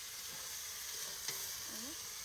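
Oil sizzling in a pan before meat goes in for home cooking, a faint steady hiss with a brief scrape of stirring, no voices.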